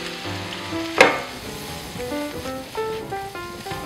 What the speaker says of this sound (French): dès que je mets mes échalotes, je rajoute mes trompettes